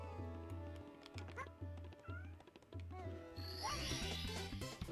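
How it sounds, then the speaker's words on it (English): A pet cat meows loudly and repeatedly in an insistent rhythm, close to the microphone, over video game music, with a jingling bell toy near the end. "My cat is still yelling at me,"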